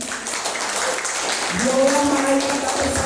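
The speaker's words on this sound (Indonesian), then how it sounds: "Beri aplaus yang sangat meriah untuk Bapak Nur Kholis." Audience applause at a business opportunity seminar, a steady wash of clapping from a crowd that swells slightly toward the end, mixed with a voice and some tonal sound.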